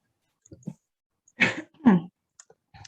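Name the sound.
coughing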